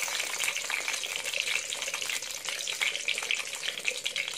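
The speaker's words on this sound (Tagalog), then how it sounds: "Hit na hit pa rin yung pagtalsik ng mantika." Eggplant frying in hot oil, a steady crackling sizzle with frequent sharp pops of spattering oil, close and continuous.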